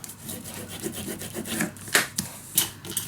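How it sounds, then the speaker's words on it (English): Adhesive paper is burnished down by hand during mini album binding, giving a close, scratchy rubbing with a few sharper strokes toward the end, heard alone. "Burnish it down"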